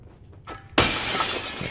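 In the video game Little Nightmares 2, a pane of glass bursts into a loud, sudden shatter after a quiet lead-in, and the bright crash of falling shards rings on to the end.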